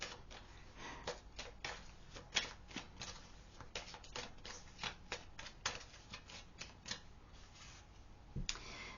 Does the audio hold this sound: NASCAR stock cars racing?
no